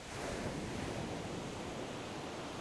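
Ocean waves roll onto a beach in a soft, steady wash of surf, faint and even with no voices or other sounds.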